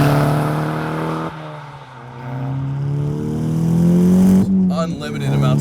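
Tuned 325 hp VW Golf R hatchback accelerating hard, a loud close engine note rising steadily through the revs with a brief dip as it shifts, then pulling on strongly.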